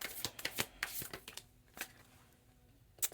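Tarot cards being shuffled by hand, a close burst of crisp riffling flicks and slaps that fades to a quiet pause before one last snap.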